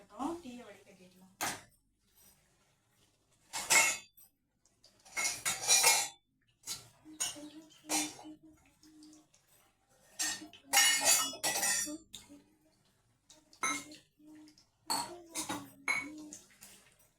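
Metal utensils clinking and scraping against pots and cups while straining tea in a home kitchen, with intermittent clatters and taps spread across the scene, close and fairly loud, between quiet gaps.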